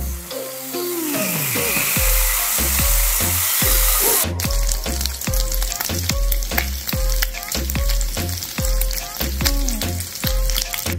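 Bacon sizzles and spatters loudly in a frying pan for a lobster roll pasta salad, with continuous crackling close up and repeated stirring or scraping knocks throughout.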